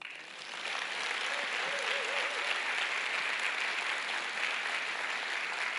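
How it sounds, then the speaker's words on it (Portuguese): A church congregation applauds warmly, a thick continuous wash of clapping that swells in within the first second and holds steady, with a faint tonal voice or note briefly underneath. "Agora eu quero uma salva de palmas dessa igreja para ela mesma."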